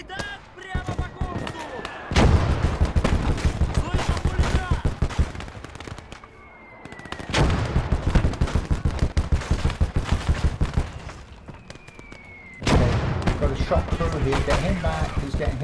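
Machine gun fire in a WWII close-combat video game set during Operation Uranus, heard as three long, rapid, loud bursts separated by short pauses.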